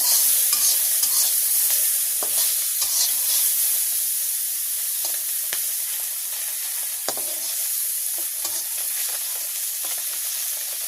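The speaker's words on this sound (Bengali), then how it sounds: "ল্যাঠা মাছ আর কাঁকড়া মাছ একসাথে ভাজি করবো।" Snakehead fish and crab fry together in a pan in a village kitchen, giving a steady bright sizzle with scattered clicks and scrapes of stirring, close and loud with no talking.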